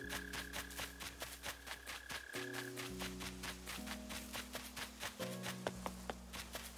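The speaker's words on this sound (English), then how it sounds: "You hear mole crickets?" Mole crickets in the Animal Crossing video game make a rapid, steady pulsing trill over soft sustained game music, with no voices.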